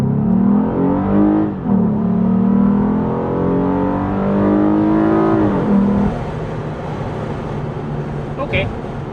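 A Lexus IS350 with a 3.5-liter V6 accelerates hard in Sport Plus mode, its engine note climbing steadily through the gears with clear shift dips, loud and close, then settling into a lower drone with faint background noise.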